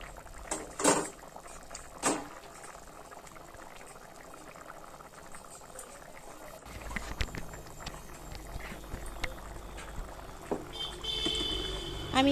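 Taro and potatoes simmering in a covered cooking pot produce a steady, quiet bubbling hiss, with a couple of brief clatters early on and louder kitchen rustling toward the end.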